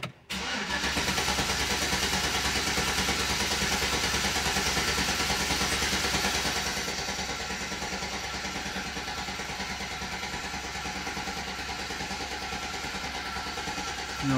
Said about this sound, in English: first crank, no start, cold engine